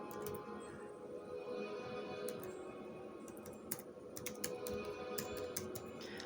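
Faint, sparse clicks of typing on a computer keyboard, scattered irregular taps over a steady low background hum, no voices.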